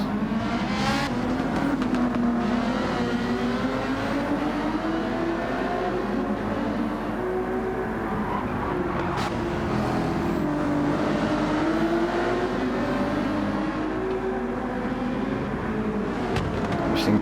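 Race cars in a racing video game league event scream past in the rain, their engine notes rising and falling steadily and loudly throughout.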